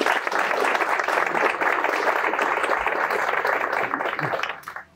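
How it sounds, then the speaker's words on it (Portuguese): Dense, sustained audience applause at an event opening at the IMS in Poços de Caldas, a steady wash of many clapping hands that holds loud for over four seconds before tapering abruptly to silence. "Palmas, por favor."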